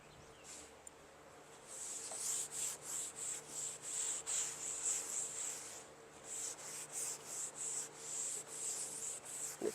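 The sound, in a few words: rubbing finish onto wooden deck bench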